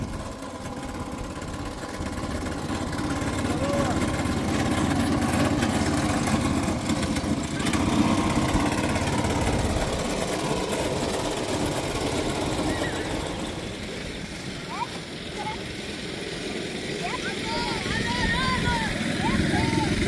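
The small electric motor of a kids' ride-on toy police car runs with a steady whirring hum, continuous and fairly close, while children's voices chatter over it.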